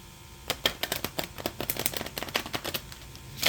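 A deck of oracle cards being shuffled by hand, a rapid run of crisp riffling snaps and flutters in irregular bursts, close and fairly loud with no talking.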